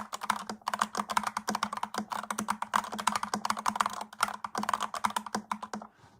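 A stock computer keyboard with LED backlighting is typed on in fast, steady, closely spaced clicks, close and clear with no voices, stopping just before the end.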